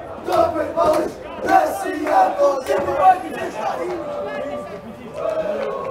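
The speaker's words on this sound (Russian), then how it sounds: "что скандируют болельщики россиянки" Supporters of the Rossiyanka women's football club chant in rhythmic unison from the stands during a match against CSKA, loud, repeated crowd shouts rising and falling in regular bursts with a general crowd roar underneath.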